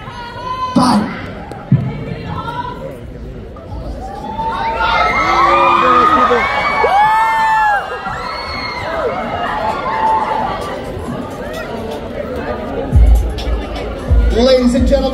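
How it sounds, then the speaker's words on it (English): Loud crowd cheering and excited shouting, with many high-pitched voices, rising for a host at a fan convention in Abu Dhabi, 2024; the cheering swells and sustains, with nearby voices and brief thumps around it. "And applause for our host!"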